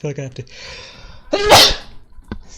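A single loud, sharp sneeze bursts out close to the microphone, preceded by a few spoken words and followed by a quieter short breath or sniff.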